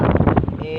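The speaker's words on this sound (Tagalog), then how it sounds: "sobrang lakas talaga ng hangin" Strong outdoor wind buffets a phone microphone in a loud, low, gusty roar across the whole short moment, with a voice talking over it.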